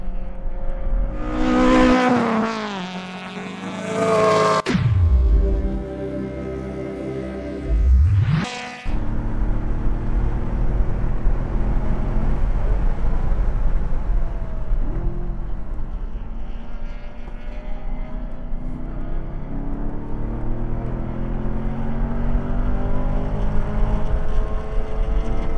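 A BMW E90 M3 is driven hard at Buttonwillow Raceway, its engine loud and close as it climbs through the revs, with sharp rises and drops at each gear change, then sustained high-rev roaring.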